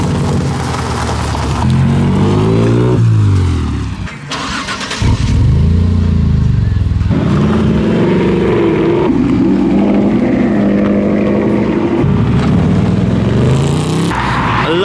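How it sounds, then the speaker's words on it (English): A black Ferrari 458 with yellow accents pulls in, its loud engine revving and surging close by, rising and falling in pitch over about fifteen seconds with a short dip midway. "Hey, another Ferrari coming in for the Italian."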